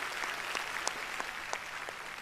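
A TV variety show studio audience applauds steadily, a continuous wash of many hands clapping with a few louder claps standing out.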